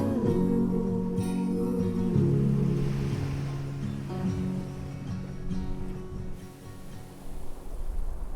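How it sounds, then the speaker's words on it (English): Steady broadband roar of ocean surf and wind at the seacoast in York Harbor, Maine, with a low droning tone running through much of it, continuous and fairly close throughout. "Listen to the sounds of the seacoast, the waves, the wind."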